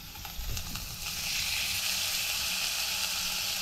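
Dried fish fritters made with pumpkin leaves fry in hot oil, giving a steady, close sizzle that swells after a brief soft clatter at the start and holds evenly to the end.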